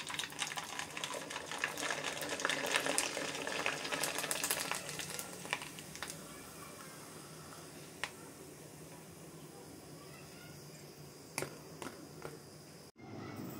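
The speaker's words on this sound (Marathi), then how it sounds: "आता तुम्हाला मी पापुडी तळून दाखवते." Rice papad frying in hot oil, a dense crackling sizzle that is loudest early, then thins into sparse pops and faint bubbling before ending abruptly.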